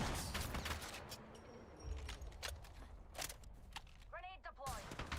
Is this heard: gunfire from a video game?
yes